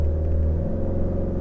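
Toyota RAV4 Prime XSE plug-in hybrid held at a standstill under brake torque in sport mode with traction control off, a steady low engine rumble and drivetrain hum droning evenly throughout, close and continuous.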